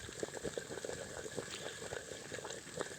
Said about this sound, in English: See that water bubbling out,